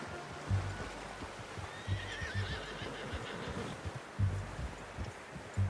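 In Red Dead Redemption 2, a horse whinnies in a long, wavering call over a steady outdoor ambience, while heavy hoof thuds land at intervals, close and fairly loud.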